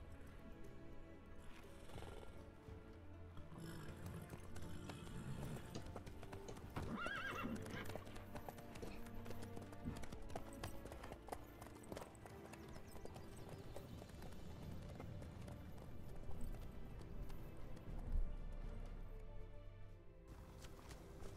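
Horse hooves clip-clopping steadily in the open-world video game Witcher 3, with repeated neighs and whinnies over a dense, continuous bed of game music and ambience.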